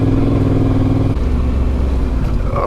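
A motorcycle rides along a clay track on a wild camping trip, its engine a steady, loud, close drone with a shift in pitch partway through as the revs drop.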